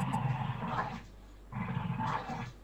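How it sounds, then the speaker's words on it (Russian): A dog growls in two low, rumbling bursts with a short pause between them, faint and heard over a call. "Я твою собаку слышу"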